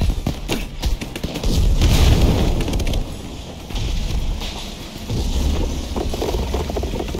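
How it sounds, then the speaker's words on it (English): TNT cannon firing in Minecraft Story Mode, a rumbling series of loud booms and blasts with a windy roar, rising and dipping in waves across several seconds. "TNT cannon away!"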